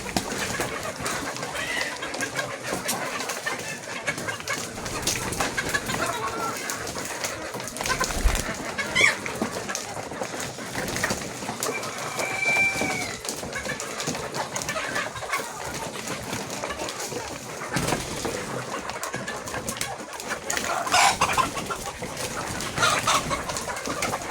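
Layer hens being fed Aftab company layer feed, a flock clucking and calling steadily at mid distance over a busy farmyard background, with occasional faint voices.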